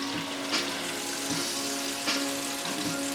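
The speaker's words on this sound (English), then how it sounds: "we keep turning it so it can sear on all sides" A steak sears in a hot pan with a steady, close sizzle and crackle, punctuated by a few brief louder spatters as it is turned, with no talking.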